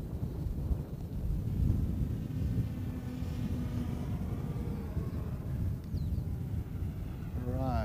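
A hexacopter drone on a full speed run outdoors, a steady whirring rotor drone under heavy wind rumble, faint and continuous throughout.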